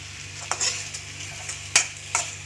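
Curry leaves added to hot oil in a pan for a Tamil lunch dish crackle and sizzle in short sharp bursts, close and moderately loud over a low steady hum.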